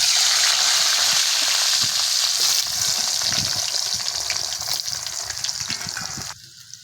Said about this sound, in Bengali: ভালো করে আলুগুলো ভেজে নিতে হবে, একদম লাল করে ভেজে নেব।